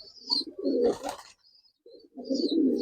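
Kalsira pigeons coo in soft, throaty bursts close by, one call after another with a short pause in between, over a faint high chirping in the background.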